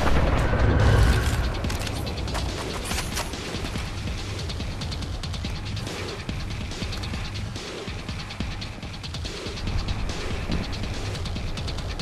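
Explosive rounds bursting in the shooter Destiny 2, a dense rumbling clatter of booms and rapid impacts running steadily over the whole stretch, loudest at the very start.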